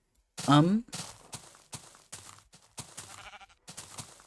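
A Minecraft sheep gives a short bleat near the start, followed by a series of soft repeated thumps like blocky footsteps or hits in the game, close and clear.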